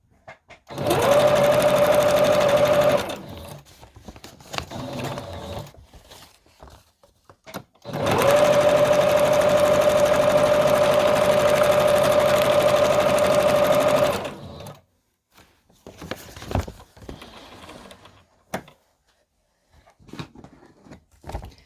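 Sewing machine stitching fabric for a collage sewing project: two steady whirring bursts, one short and one about six seconds long, with quiet handling noises between and after them.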